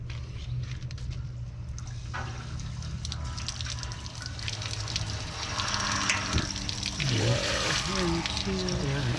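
Water runs steadily from a camper's reserve drinking-water tank, a continuous close gush and trickle, with voices speaking over it toward the end.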